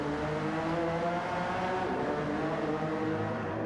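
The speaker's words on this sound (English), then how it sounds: "low rumble of the Merc engine there against the high pitch whine of the Honda" Two racing engines run together, a Mercedes with a low rumble and a Honda with a high-pitched whine, both steady and continuous for the whole stretch.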